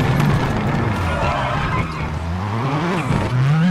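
A Volkswagen Polo rally car brakes hard into a hairpin on a German stage in WRC 8, a loud, close mix of engine roar and scrubbing, skidding tyres that dips and then rises again.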